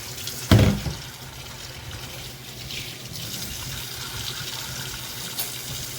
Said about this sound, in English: So guys, I have the saltfish in front of me. I'm rinsing it out of this.